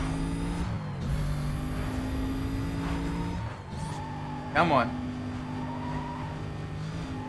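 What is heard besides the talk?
Carrera GT race car engine, Need for Speed Most Wanted video game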